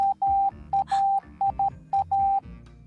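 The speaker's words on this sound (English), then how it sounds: "Some people use sounds like this." Morse code signal in a steady electronic tone: short dots and long dashes in irregular groups, clear and prominent over a soft low background.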